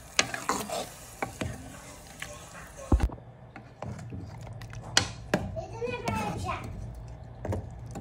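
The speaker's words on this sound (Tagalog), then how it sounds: "Tapos halo-haloin po natin hanggang mag-mix po yung coconut milk sa chicken po natin." A utensil stirs chicken and coconut milk in a sizzling pan, scraping and bubbling up close, while a voice chatters in the background.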